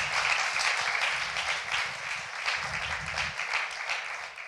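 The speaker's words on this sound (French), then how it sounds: "On peut encore une fois les applaudir." Applause from a church congregation at a Sunday service, a steady broadband wash of many hands clapping that fills the whole stretch with no breaks, mid-level and diffuse like a large room full of people.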